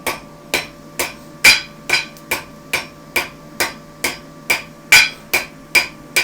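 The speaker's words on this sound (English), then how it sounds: "you want to have your hammer down like that, and just take that edge off to the heel" A farrier hammers a horseshoe on the anvil, about fourteen sharp ringing blows in a steady, even rhythm, close and loud, with no talking.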